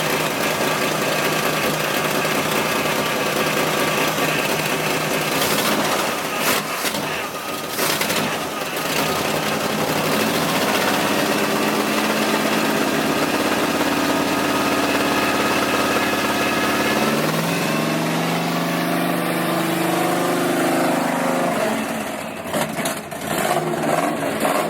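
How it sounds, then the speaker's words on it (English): A long-abandoned Squarebody Chevy truck engine idles loudly and steadily up close, a rough mechanical drone with a whining power steering pump, and brief voices talk over it partway through. "Sounds like I hear a power steering pump."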